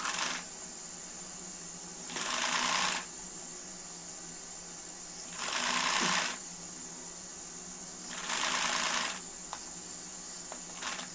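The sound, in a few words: sewing machine stitching frock pleats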